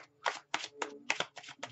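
Tarot cards being shuffled by hand, a series of crisp riffling bursts repeating in quick rhythm, close and alone without talk.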